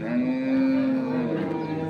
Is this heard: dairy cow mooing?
yes